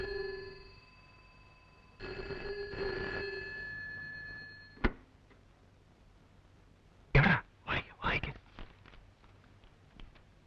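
An indoor telephone bell rings in two bursts, each a bright, electronic trill. A short knock follows, then several loud, brief bursts of someone talking nearby.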